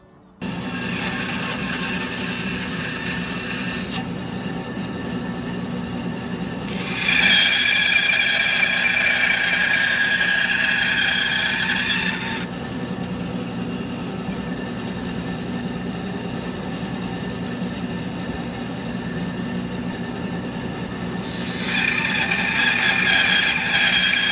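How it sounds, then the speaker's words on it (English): A bandsaw cuts through a block of red cedar wood outdoors, its steady motor drone rising to a louder, brighter whine in several stretches as the blade bites into the wood, with no talk. "So we'll do these cuts on the bandsaw"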